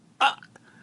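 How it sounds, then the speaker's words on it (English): A loud human burp bursts out once, short and close, followed by faint noises and quiet. "I had a real loud burp."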